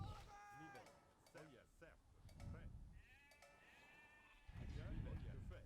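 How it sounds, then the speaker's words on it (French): Sheep bleat several times in Age of Empires II: Definitive Edition, wavering cries rising over a busy game background with talk. "Ok, ça fait des moutons."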